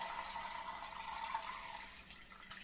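Water with worms being strained over a toilet, a soft continuous pouring and splashing at low level, fairly steady and tapering slightly toward the end.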